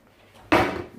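A kitchen cutlery drawer slides open with one sudden clattering rattle of metal utensils and a wooden rumble, then a short settling tail, heard close and alone.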